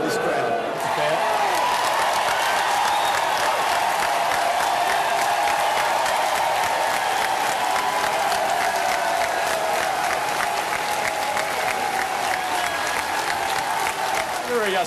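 A large crowd at the Gough Whitlam memorial applauds and cheers as former prime minister John Howard arrives, a dense, continuous roar of clapping that holds strong and steady throughout.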